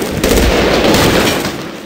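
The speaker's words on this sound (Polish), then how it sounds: "tam słyszę jakieś wyjątkowo dobre działko" Gun emplacement firing in Medal of Honor Warfighter, a loud, rapid, continuous burst of heavy gunfire close by.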